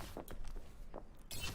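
Character footsteps thump through an MMORPG game during a charity stream: several soft, low thuds land irregularly over a quiet background, followed by a brighter hissy burst near the end.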